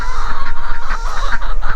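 Backyard chickens cluck in a close, rhythmic run of short repeated calls, loud and busy over a low steady hum, with no talk.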